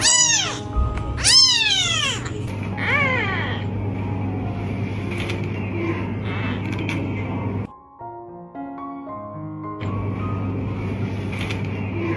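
A kitten gives a few high, rising meows early on, then a steady low mechanical hum with creaky noises continues underneath.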